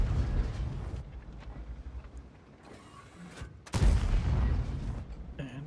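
Tank cannon fire in the game Char Futur 4, with an M103 nearby: a sudden heavy blast cuts in after a quieter stretch of rumbling engine and mechanical noise, then a sustained roar follows.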